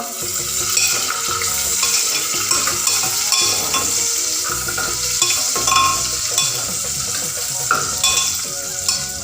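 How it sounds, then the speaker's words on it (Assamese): A spoon stirs pulao rice with raisins and nuts as it fries in a hot pan, giving steady sizzling with repeated scraping and clinking strokes against the metal, loud and close with no talking. "বেছিকৈ যাতে নিসিজে, অলপ অলপ ভিজে তালৈকে চাই থাকিব আৰু লৰাই থাকিব।"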